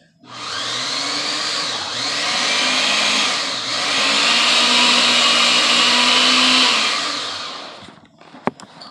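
A blender grinds pesto at close range, a loud, continuous whirring roar that dips in pitch a couple of times as the blades load, then cuts off abruptly with a clunk.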